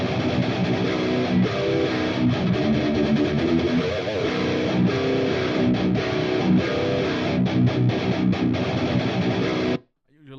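A heavily distorted electric guitar plays chunky metal chords and riffs through an analog amp for about ten seconds, stopping abruptly near the end.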